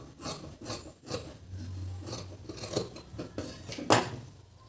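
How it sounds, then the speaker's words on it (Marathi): Scissors cut through the stiff edge of fabric in a series of short, close rasping snips at an uneven rhythm, with one sharper crisp cut near the end. "हा जो कडक भाग आहे तो आपण कट करून टाकूया"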